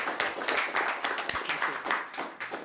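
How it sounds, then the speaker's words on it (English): A small group at a parliamentary health committee meeting claps for panelists, producing sparse, uneven hand claps in a modest room for a few seconds. "So a big round of applause."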